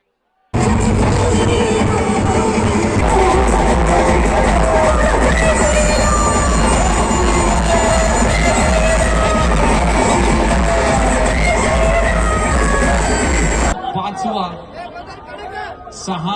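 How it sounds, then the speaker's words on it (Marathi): Loud, dense crowd noise with cheering and shouting at a Marathi dahi handi festival as a seven-tier human pyramid is completed, sustained for about thirteen seconds before dropping abruptly to quieter ambience. "जोरदार टाळ्या झाल्या पाहिजेत."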